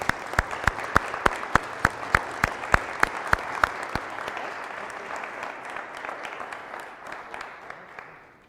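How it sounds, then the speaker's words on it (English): Audience applause for a fire department at a township reorganization meeting: a few loud, sharp claps in a steady rhythm stand out over a dense wash of clapping that continues and slowly fades. "So a round of applause for these guys and the whole department."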